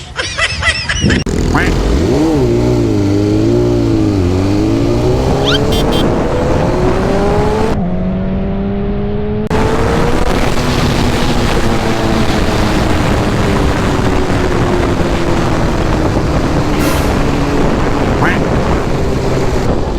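A BMW big bike motorcycle carries riders as a habal-habal motorcycle taxi, its engine droning steadily and loudly close by, with pitch sweeping up and down as it accelerates and shifts across the whole stretch.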